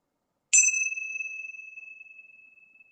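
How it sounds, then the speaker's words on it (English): A single meditation bell is struck once after a brief silence, giving a bright clear ding that rings on and slowly fades through the rest of the moment. "feeling the sound of the bell within the body as we begin to enter into our meditation"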